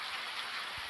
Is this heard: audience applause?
no